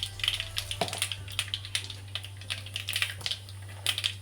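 Cumin and mustard seeds spluttering in a spoonful of hot oil in a pan, a dense run of sharp crackling pops and tiny bursts over a steady low hum, close and fairly loud, with no talk.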